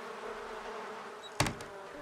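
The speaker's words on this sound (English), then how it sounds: "Is he messing with these bees still?" Faint buzzing of bees droning in The Sims 4, with one brief louder buzz as an insect passes close by.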